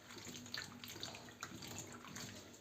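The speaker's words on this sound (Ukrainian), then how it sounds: "Я її промиваю отак разом з хвостиками." Strawberries, about a kilogram with their green hulls still on, being rinsed under a running kitchen tap, with a steady hiss of flowing water and splashing in the bowl, close and continuous.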